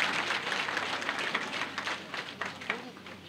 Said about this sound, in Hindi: आप जोरदार तालियों के साथ स्वागत करें